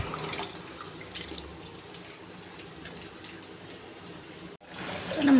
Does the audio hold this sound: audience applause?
no